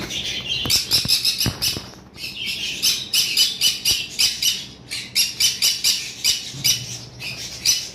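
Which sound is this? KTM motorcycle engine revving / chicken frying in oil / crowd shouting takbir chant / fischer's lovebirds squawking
fischer's lovebirds squawking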